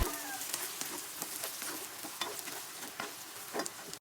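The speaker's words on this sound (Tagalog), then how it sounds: "Piprituin ko nga muna itong mga hotdog na to para naman mas luto siya." Hotdogs frying in hot oil for Filipino spaghetti give a steady, dense crackling sizzle with scattered pops, close and continuous, with no voices.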